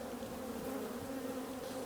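Honey bees hum steadily around an open hive during an early-season split, a continuous close drone with no voices over it.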